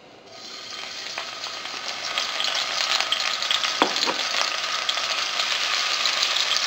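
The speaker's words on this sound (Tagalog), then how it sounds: "Once na mainit na yung oil, ilalagay na natin dito yung minced garlic." Minced garlic dropped into hot cooking oil in a frying pan: a bright, crackling sizzle swells up within the first moments, then stays loud and steady with scattered pops and spatters.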